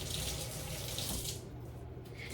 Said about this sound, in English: Now, I'm gonna wash my glove right